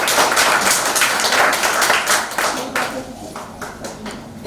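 A seminar audience breaks into loud, sustained applause at the speaker's call, dense clapping filling the room and tapering slightly toward the end, with no talking over it.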